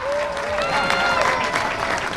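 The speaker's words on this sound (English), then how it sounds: "There are the cheers, there's the applause of the massive crowd here at the Greenyards tonight." Massive crowd at the Greenyards rugby ground in Melrose applauding and cheering a women's rugby trophy lift, with dense, continuous clapping and a whistle or two, loud and sustained throughout.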